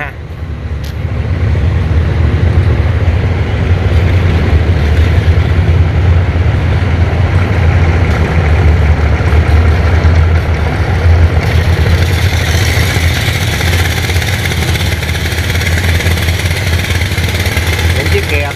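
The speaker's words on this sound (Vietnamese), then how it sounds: "Những chiếc ghe tấp nập luôn." Motorboats crowd a busy river in the morning, a continuous loud engine drone and hum close by, steady throughout with a slight shift in tone partway through.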